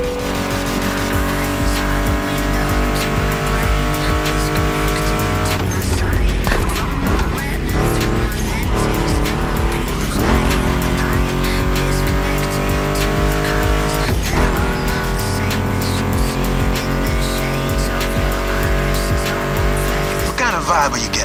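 Ford Mustang GT muscle car in The Crew Motorfest racing game, its engine roaring continuously with rising and falling revs through gear changes and tire squeal, loud and close, with a voice talking over it.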